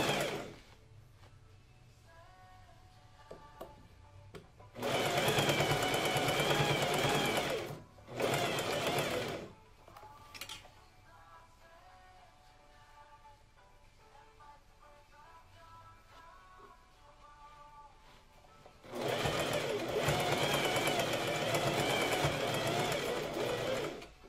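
A sewing machine stitches the first sleeve of a blouse in three loud, close runs of whirring motor, separated by quiet pauses with faint background hum.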